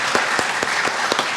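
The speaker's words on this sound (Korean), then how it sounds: "우리 큰 박수로 우리 환영하실까요" A church congregation applauding steadily, a dense even patter of clapping with no voices on top.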